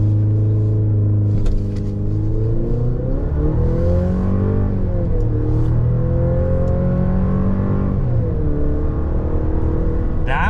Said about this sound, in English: Let's do a little bit of a brake rev and see what this thing can do.